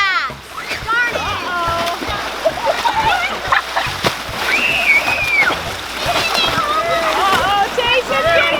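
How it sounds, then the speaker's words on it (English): A wave machine churns big waves in a pool, with splashing water throughout while children shout and talk excitedly over it, close and loud. "Let's get the wave machine going. Oh boy. Those are some big waves."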